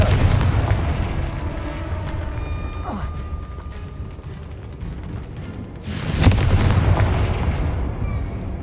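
A Confringo fire spell bursts in the Hogwarts Legacy video game, a loud boom near the six-second mark over a steady rumbling game soundscape, with a fainter thump a few seconds earlier.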